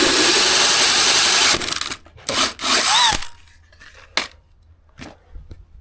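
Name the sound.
power tool cutting a hole in an air intake airbox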